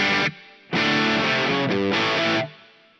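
Electric guitar through a Mooer GE300 Lite with reverb mix at 30%, played as a few loud distorted chord bursts, each leaving a fading reverb tail, with a short gap between the first hit and the rest.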